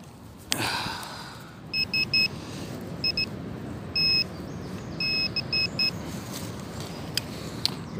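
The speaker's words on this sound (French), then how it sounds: "une petite sonnerie avant de partir" Several short, high electronic beeps sound in bursts of two or three over a steady outdoor rumble, with a sharp click near the start.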